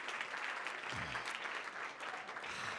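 At an awards ceremony, an audience applauds the winners in the scripted category, a fairly faint, even wash of clapping heard from some distance, with a low rumble of murmuring voices underneath.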